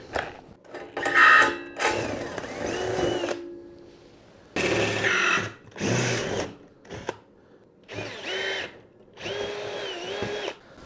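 A power drill fitted with a 6.5 mm bit bores holes for 6 mm bolts while building a homemade roof snow-removal tool, in several short whirring bursts that rise and fall in pitch, close by and separated by brief pauses.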